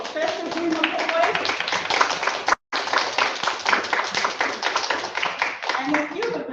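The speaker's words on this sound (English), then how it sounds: "Let's give an applause for Professor Dean McCoy." Loud, sustained applause from a large crowd, dense clapping that cuts out briefly partway through and then continues, with a few voices beneath.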